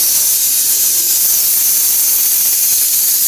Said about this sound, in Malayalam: നമ്മുടെ പയർ വെന്തുകൊണ്ടിരിക്കുകയാണ് കുക്കറിൽ നിന്ന് സൗണ്ടൊക്കെ വരുന്നുണ്ട്